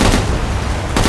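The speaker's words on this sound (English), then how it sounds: "Three shots." A short, loud cluster of rapid gunshots in the Killing Floor 2 game, crackling bursts lasting about a second with no talk.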